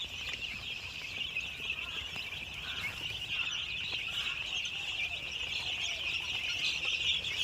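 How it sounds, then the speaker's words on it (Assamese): A flock of young Koiler chicks in Meghalaya, about fifteen days old and kept under brooding, chirps continuously in a high, dense chorus, a steady overlapping peeping that stays even from start to finish, moderately close and without speech. "এইটো হৈছে কয়লাৰ মুৰ্গী পোৱালি"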